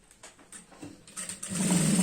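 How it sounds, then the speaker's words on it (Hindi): A sewing machine runs in short bursts and then one steady longer run while stitching a skirt for an 11 to 12 year old girl, close and moderately loud, with no talking. "दोस्तों यहाँ पर खींच के सिलाई लगाई इस तरह से"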